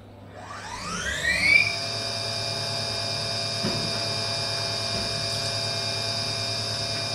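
A machining fixture for a Lang QuickPoint plate runs on a CNC machine with coolant flowing. A spindle whine climbs in pitch for about a second and a half, then holds as a steady, droning hum under a low mechanical buzz.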